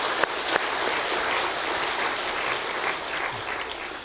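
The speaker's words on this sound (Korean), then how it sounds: "박수로 크게 환영합니다." A church congregation gives newcomers a warm welcome with a steady burst of dense, loud applause from many hands filling the room throughout.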